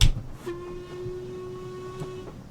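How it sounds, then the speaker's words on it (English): An LMS Stanier Class 5 'Black Five' steam locomotive in Train Simulator 2018 gives a short steady whistle lasting about two seconds, clear and fairly close, with faint background rumble and no talking. "I love that whistle as well."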